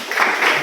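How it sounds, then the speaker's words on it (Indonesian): Brief burst of audience applause at an Islamic studies lecture, a short dense patter of clapping rising quickly and holding for under a second. "Terima kasih, tepuk tangan."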